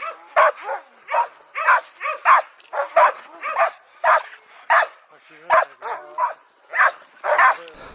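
Laika hunting dogs bark in quick repeated bursts at a kennel, a steady run of sharp yaps and yips at close range with no talk over them.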